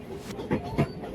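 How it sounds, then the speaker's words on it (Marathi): A train rolls past, an AC commuter train near Badlapur, with a steady rumble and three sharp rhythmic wheel clacks spaced evenly over the rail joints, close and clear. "ट्रेन आता आलेली आहे"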